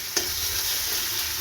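Ginger frying in hot oil with turmeric, a steady close sizzle with one sharp stir or spatter near the start, no voices.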